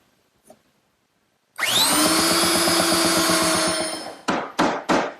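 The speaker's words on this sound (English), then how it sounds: "My belt sander does a good job removing any of the excess dowel." A belt sander grinds excess dowel flush on a wooden chair table, its loud motor whining steadily for a few seconds before three short, sharp bursts of sanding follow.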